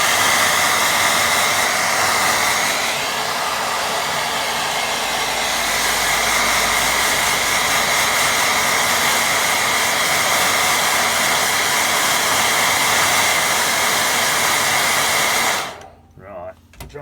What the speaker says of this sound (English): I'll dry it at that while that's running up